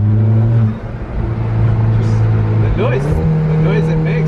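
A 2018 Alfa Romeo 4C engine revs loudly from the cabin, its drone climbing, dipping briefly at a gear change, then pulling again, with a person talking over it.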